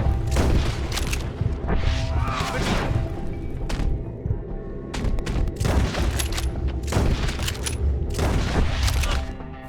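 Gunfire in Red Dead Redemption 2, a shootout with repeated loud bangs and heavy thumps in irregular bursts over a steady rumble, with voices shouting now and then.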